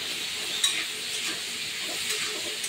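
Fish and yam curry is stirred in a pan, quiet scraping strokes over a soft sizzle, with a few light clinks of the spoon against the pan.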